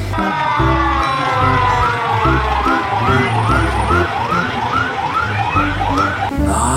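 A toy fire truck siren wails in a steady repeating up-and-down pattern, loud and close, over a thumping electronic tune.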